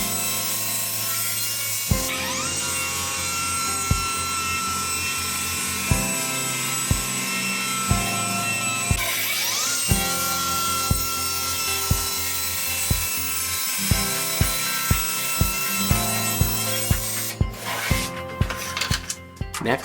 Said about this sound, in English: Now back to the table saw where we'll square off the edges using our crosscut sled.